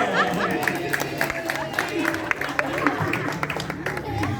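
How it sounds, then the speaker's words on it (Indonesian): Clapping from a gathered neighborhood audience at a fire-department safety demonstration in Jagakarsa, RW04, crackles steadily under continuous crowd chatter and nearby voices. "Nah, tepuk tangan dong."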